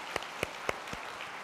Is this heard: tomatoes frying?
no